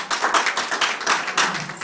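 Applause from a comedy cabaret audience, a dense patter of many hands clapping close and fairly loud, with rhythmic surges and no voices over it.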